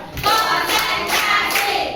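A classroom of students clapping hands together in a patterned rhythm, several loud, evenly spaced bursts of claps close by.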